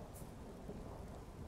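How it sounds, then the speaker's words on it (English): Steady rain falls in Skyrim with a faint rumble of thunder beneath it, a quiet, even wash of drops with no voices. "This rain will stop eventually."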